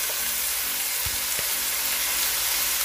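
Chopped garlic and sliced ginger frying in a pan: a loud, continuous crackling sizzle throughout, with a couple of soft utensil bumps, no voices.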